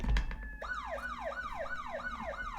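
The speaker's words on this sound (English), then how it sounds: "There's actual sirens outside" Emergency vehicle sirens wail outside, a steady rising-and-falling cycle repeating about every half second, loud and continuous after a brief low rumble at the start.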